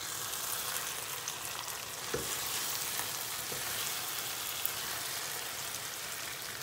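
A saucy eggplant dish simmers in a covered pan, giving a steady, soft bubbling sizzle with a few faint clicks, close and continuous with no talking.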